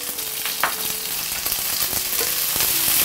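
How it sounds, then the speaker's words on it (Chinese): Scallions fry over low heat in oil in a wok until browned, giving a steady, loud, close sizzle with occasional scraping stir clicks throughout. "我们把大葱煎到这种焦褐色之后呢，再下入其他的葱"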